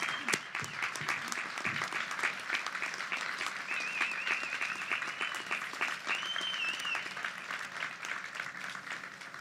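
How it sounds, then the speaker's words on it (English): Sustained applause from a large audience at the Ball State University 2020 graduates' commencement ceremony, steady and full throughout, honouring the graduates' family and friends, with a few high whistle-like tones drifting over the clapping. "let us give a round of applause to show our appreciation to the family and friends who are here"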